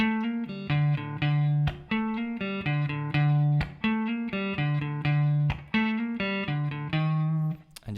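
A distorted electric guitar plays a song's riff, with clear repeated plucked notes and chords in a steady rhythm, loud and close with no talking.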